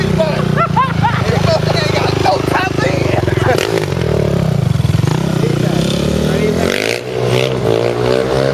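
Revving engine of a motorcycle set up for wheelies, a dirt-bike style machine, droning steadily and close with rising and falling throttle blips, while people talk loudly over it throughout.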